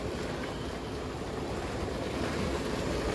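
Heavy rain and strong wind pound a sailboat during a night storm at sea, a dense, loud, unbroken roar of downpour and gusts with no voices.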